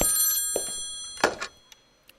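A telephone bell rings sharply and fades out, followed by a few faint thumps and clicks in an otherwise quiet room.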